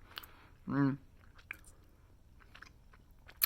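Gushers fruit snacks being bitten and chewed close to the mic, one short soft squishy chew in a quiet room, followed by faint small mouth sounds.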